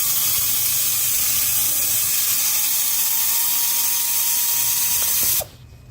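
A ratchet works the 13mm bolt of the belt tensioner on a Ford F150 5.0L engine, giving a steady, dense, close-up grinding rattle that runs for about five seconds and then stops abruptly.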